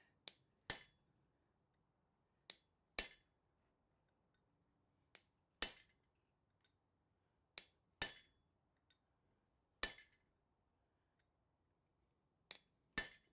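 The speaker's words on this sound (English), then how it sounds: "you often hear me do an establishing tap first to line up where I'm going to strike" Hammer striking a steel chisel in a smithy, a series of sharp ringing metallic clinks with short decays, light tapping blows mixed with heavier strikes at irregular intervals, close and alone in a quiet room.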